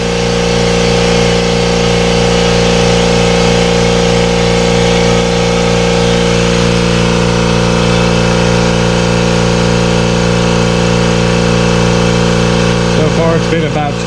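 Kobalt Quiet Tech 29-gallon air compressor running, a loud, steady motor hum with a constant tone that holds for the whole stretch and stays even throughout, with no break or change in pitch, heard up close.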